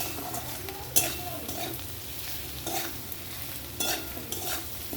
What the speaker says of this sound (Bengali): মশলাটা ভালো করে ভাজতে হবে এতে।